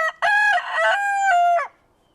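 A rooster at a horse ranch gives one clear, loud crow lasting about a second and a half, its harmonic call rising and then trailing off into near silence.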